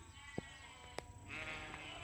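Ewes bleat faintly and at a distance, with a few brief calls over a low outdoor background hum during a sheep drive.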